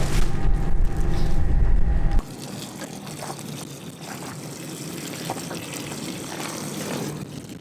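Fluid from a 3000 hp twin-turbo 1956 Chevy race car draining onto the ground at the pits, a steady watery trickle and splatter following a louder burst at the start.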